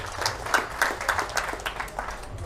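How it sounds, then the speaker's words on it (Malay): Applause at a Malaysian mosque-complex donor appreciation ceremony for Hafiz Yu, a modest round of distinct, moderately close hand claps with a light, uneven rhythm and no talking over it. "kita berikan tepukan untuk saudara Hafiz Yu"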